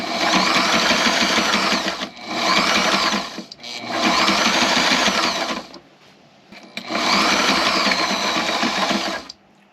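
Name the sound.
sewing machine stitching through thick edges of boat sunshade fabric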